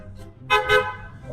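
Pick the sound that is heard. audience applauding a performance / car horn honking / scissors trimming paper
car horn honking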